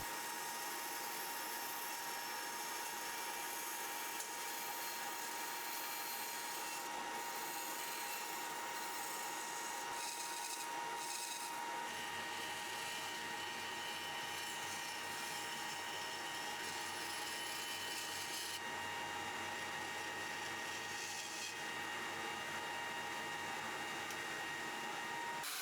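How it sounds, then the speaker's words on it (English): Steady mechanical whir of an oscillating spindle sander running continuously, with grinding and scraping texture as oak is worked against it, fairly loud and unbroken. "The oscillating spindle sander really helps here as far as sanding this stuff down"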